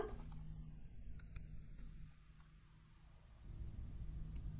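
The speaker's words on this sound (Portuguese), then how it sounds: "eu vou clicar aqui em semelhança" Mouse clicks on the similarity button in the Turnitin plagiarism-checking site: a quick pair of faint, crisp clicks, then a single click at the end, over quiet background hiss without talk.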